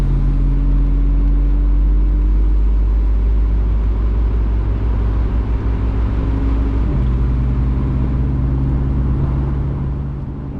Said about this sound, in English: It's more about the sound of the car, the roar, the V8 sound